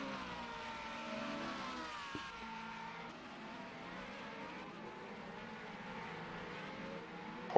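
Race cars lap Kyalami circuit in South Africa, a steady, fairly quiet engine drone from a distance with shifting tones as cars pass, closing with a short louder burst.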